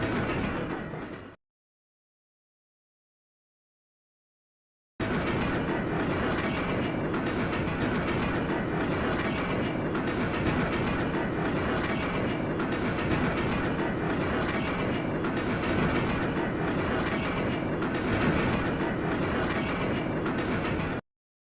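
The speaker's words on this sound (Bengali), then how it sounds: "আমরা ট্রেনে উঠে যাত্রা শুরু করলাম।" A train rumbles steadily along the tracks with a continuous clattering roar, close and loud, after a brief burst and a few seconds of silence.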